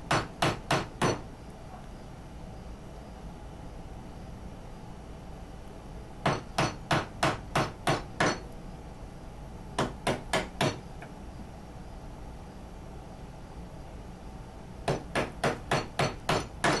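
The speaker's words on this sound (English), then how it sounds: "I started cleaning it up at the bench with chisels" Sharp mallet strikes on a chisel chopping out dovetail waste in walnut come in quick bursts of four to six blows, separated by pauses, close and loud against a quiet room.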